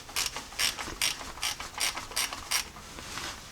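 A socket ratchet loosens a 13mm nut on a Jeep starter solenoid, clicking in about eight quick, rhythmic bursts, close and clear with no voices.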